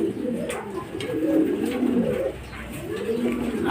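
Racing pigeons at a loft during a club fun race coo in close, repeated rolling calls, each swell rising and falling in a steady rhythm, fairly loud, with a few soft taps underneath.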